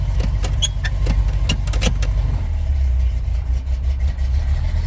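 A Chevy Nova V8 engine runs close by with a deep, steady low-end rumble. A few sharp knocks and clicks sound early on, and the exhaust note then settles into an even idle.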